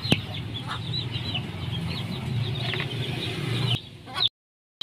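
Pet chickens gathered and waiting to be fed, giving repeated clucks and short calls close by over a steady rustling background, ending in an abrupt silence.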